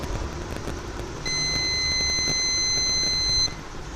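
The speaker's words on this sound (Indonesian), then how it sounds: "Kalau dibalik dia bunyi, tapi bunyinya itu bukan bunyi karena short." A multimeter beeps with its probes reversed across a capacitor: one steady, high-pitched tone lasting about two seconds, then it cuts off, over quiet background noise.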